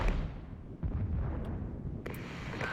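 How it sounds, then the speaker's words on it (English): Artillery barrage in the wartime strategy game Regiments: a steady low rumble of distant shell impacts, with a sharp burst near the start and a louder crack around two seconds in. "Let's call in an artillery barrage on Yunde to make sure that we can get those forces suppressed"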